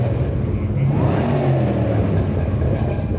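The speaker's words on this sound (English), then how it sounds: "That's what a muscle car should sound like." Chevrolet Camaro ZL1 muscle car engine, high-mileage and freshly tuned, revving loudly and close, a deep sustained roar that swells and settles over a few seconds.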